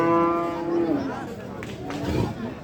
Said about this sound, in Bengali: বড় গরু আছে